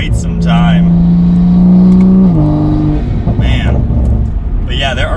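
A Toyota Supra fitted with an Armaspeed carbon fiber air intake, driven hard: a loud, steady engine drone rises and holds, then drops away, with a person talking before and after.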